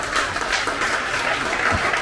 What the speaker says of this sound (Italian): E qua c'è un altro applauso